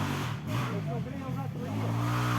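Off-road vehicle engines rev hard at full throttle on a spring trail ride, with a loud, rising and falling engine roar and a voice talking over part of it.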